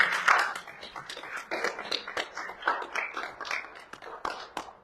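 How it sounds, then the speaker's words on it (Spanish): Applause at a Spanish-language panel on free textbooks in Colima, a steady patter of many hands clapping throughout, moderately close and filling the room with no talk over it. "Le pedimos un fuerte aplauso, por favor."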